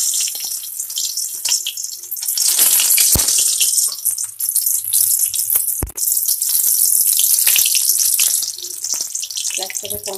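Small dollops of water lily flower fritter batter dropped into smoking-hot oil in a kadai, setting off a loud, dense, crackling sizzle that surges and holds steady, with a few sharp knocks.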